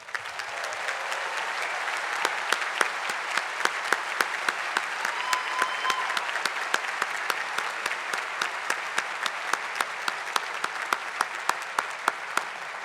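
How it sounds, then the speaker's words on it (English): A large crowd applauds steadily for graduates at the 2014 Claremont McKenna College commencement, a dense continuous wash of clapping with some individual claps standing out, lasting throughout at an even, moderate level. "let's all of us give our graduates today their very first round of applause"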